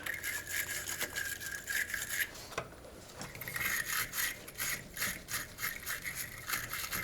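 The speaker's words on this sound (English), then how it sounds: "Get your terminal brush." A wire terminal brush scrubs the cable terminals of a Ford F-150 truck battery, giving close, steady back-and-forth rasping strokes with a brief pause midway before the scrubbing resumes.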